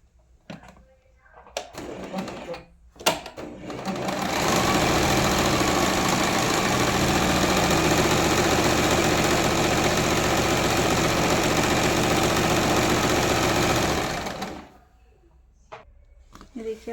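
An interlock sewing machine runs steadily for about ten seconds while stitching kurta pajama fabric, a loud continuous motor whir that starts and stops abruptly, with brief handling noises before and after.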